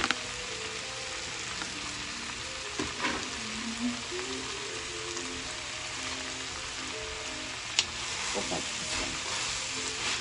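Vegetables in a seasoned sauce sizzle in a seasoned Skeppshult cast iron pan over low heat, a steady close crackle with occasional scrapes and clinks of stirring.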